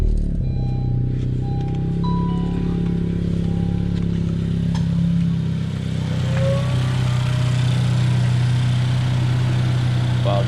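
A 2018 Honda Civic Hatchback Sport with a PRL Cobra intake running near the microphone, a steady loud engine drone with a slight rise in pitch as it begins to pull away.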